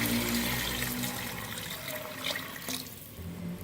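Water pours steadily into a pot of about 800 grams of rice, roughly three glasses' worth for a chicken pulao, a close continuous splashing that thins toward the end.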